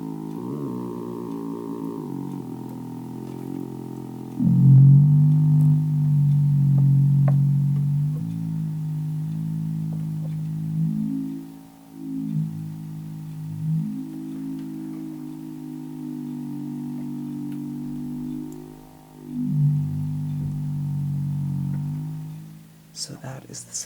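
A soft, steady buzzing drone from a $1 DIY VCO synthesizer oscillator run through a WMD multi-mode filter, its tone slowly swelling and dipping in repeated filter sweeps for over twenty seconds.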